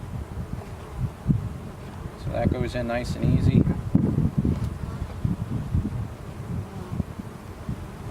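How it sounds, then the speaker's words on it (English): Honeybees humming as they are shaken from frames into a split hive box, a dense low buzzing with rustles and knocks, a person speaking briefly over it. "we're going to shake bees."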